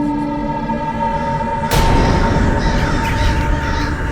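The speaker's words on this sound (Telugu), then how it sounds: "మళ్ళీ ఈ కాకులు ఒకేసారి పెద్ద గుంపుగా మారి" A large flock of crows caws in a Tenali Rama Krishna period drama scene. A held tone gives way at about the midpoint to a sudden loud, noisy swell of massed cawing and flapping that lingers.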